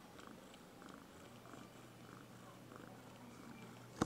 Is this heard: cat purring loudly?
yes